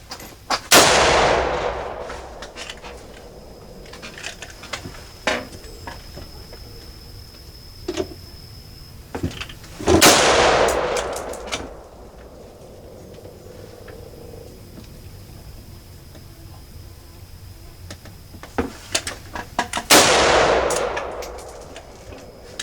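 Three loud gunshots ring out about ten seconds apart as a shooter fires down at a target 100 yards away. Softer clicks and handling noises fall between the shots, and no one talks.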